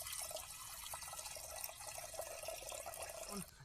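Water pours steadily from a container at a cooking spot at a night forest campsite, a continuous splashing and trickling stream close by with no talk.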